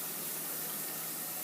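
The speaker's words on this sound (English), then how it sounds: "And I'll be turning off the water." Tap water runs steadily into an aquarium being refilled after substrate vacuuming, a continuous close hiss and gush of flowing water with no talk over it.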